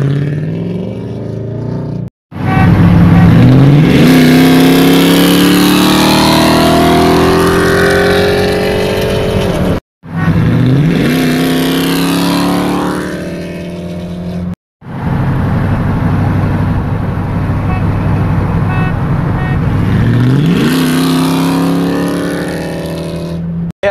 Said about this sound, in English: This is the LS Swap Colorado.